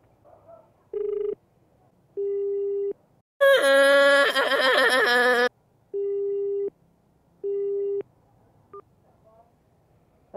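Repeating telephone busy tone on a call that will not connect, steady beeps of even length and spacing, broken midway by a brief burst of louder, garbled tonal noise, with no talk over it.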